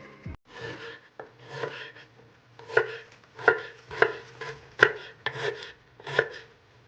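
A knife chops ginger finely on a cutting board, a series of sharp, close taps in an uneven rhythm with softer slicing strokes between them.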